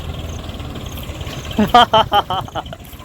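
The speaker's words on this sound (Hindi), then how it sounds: "जी आ गया भाई साहब ट्रैक्टर" A tractor engine rumbles steadily and low at a farm where a moong harvest is under way, with people talking over it partway through.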